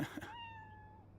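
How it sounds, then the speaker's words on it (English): A single cat meows indoors in an apartment, a clear drawn-out call that slides slightly downward, close to the microphone over a faint steady hum. "This is the first time I've ever seen an actual cat in the apartment."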